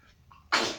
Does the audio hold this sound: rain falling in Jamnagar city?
no